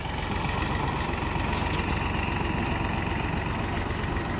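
A tractor engine runs steadily at a low, rumbling idle in a village while loaded with rice paddy, a constant close chugging drone with no talk.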